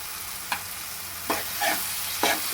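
Andhra-style vada curry with turmeric powder stirred in a pan, soft sizzling under a few distinct scraping strokes of the spoon against the pan, close and fairly quiet, with no talk.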